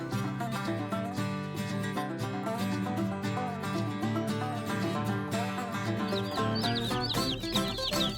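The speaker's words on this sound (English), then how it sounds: "So we received 53 Cornish Cross meat birds." A batch of 53 Cornish Cross meat chickens clucks and peeps continuously as a dense, steady flock chorus, with higher chirps rising toward the end; nobody speaks.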